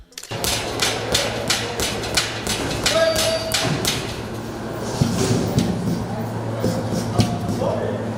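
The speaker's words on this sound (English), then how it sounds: "the sound of steel meeting rubber is witnessed throughout the gym" Repeated sharp metallic thumps and clanks of steel weights hitting rubber flooring in a boxing training gym ring out over a constant low hum, like heavy weights dropping onto a hard floor in a busy room.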